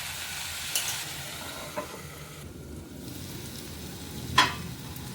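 Green beans sizzle softly in a pan while a utensil stirs them, a steady low fry with a few brief scrapes and clinks, close by and without talk.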